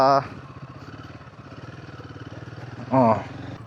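A Royal Enfield Himalayan 450 motorcycle rides a narrow, risky road, its engine a steady close pulsing thrum throughout, with short bursts of voices at the start and near the end.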